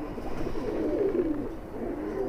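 High-flyer pigeons coo softly and close by, a low rolling warble that swells in the middle and continues over faint ambient noise.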